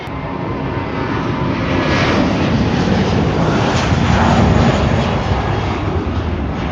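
A plane taking off at Gibraltar airport, a loud continuous engine roar that builds slightly and peaks near the middle before holding steady, heard from nearby.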